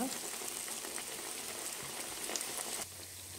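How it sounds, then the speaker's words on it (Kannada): Chana dal vadas bubble and fry steadily in hot oil over medium flame, a dense continuous sizzle that stays fairly even, then drops slightly quieter near the end. "ಇದು ಫ್ರೈ ಆಗಲಿ ಬೇಗ ತಿರುಗ್ಸೋಕೆ ಹೋಗಬೇಡಿ ಒಂದು ಟೂ ಮಿನಿಟ್ಸ್ ಅಷ್ಟು ಫ್ರೈ ಆಗಬೇಕು"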